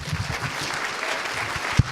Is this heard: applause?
yes